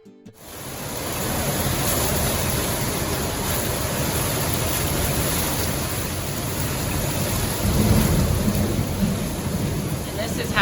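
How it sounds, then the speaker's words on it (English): A thunderstorm overhead brings steady heavy rain in a dense, continuous hiss with deep rumbling underneath, swelling slightly toward the end. "Thunderstorms right overhead."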